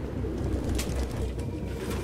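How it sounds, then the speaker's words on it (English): Pigeons cooing in a cluttered apartment in the video game Detroit: Become Human, a steady low murmur of several birds close by that goes on without a break. "No human could live with all these fucking pigeons"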